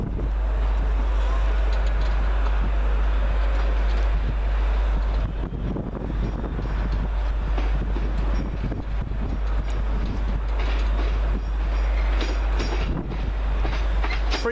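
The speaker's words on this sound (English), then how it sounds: "The next train in is the 1411 first Transpennine Express service from Manchester Airport to Edinburgh Waverley." A TransPennine Express train from Manchester Airport to Edinburgh Waverley rolls into Carlisle station with a deep steady rumble and rattling wheels, wind buffeting the microphone and no voices.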